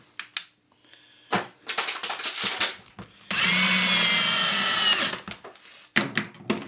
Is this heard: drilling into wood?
yes